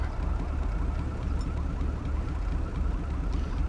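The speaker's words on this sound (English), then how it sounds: "I hear a car alarm, I just don't know where it's coming from" A car alarm in Grand Theft Auto V wails in a steady repeating pattern over continuous low engine-like hum, fairly loud and unbroken.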